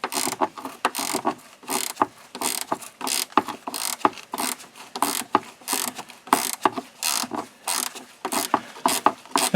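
A ratchet wrench loosens a nutsert-mounted bolt on a 1997–2006 Jeep Wrangler TJ fender flare, its pawl clicking in quick, rhythmic bursts of strokes, close and clear with no talking.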